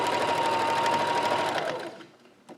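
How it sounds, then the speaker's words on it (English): Sewing machine stitching across the top of a drawstring backpack through lining, bag and casing, a steady close whirring run lasting about two seconds before slowing and stopping, then a brief small thump. "we're just sewing across the top"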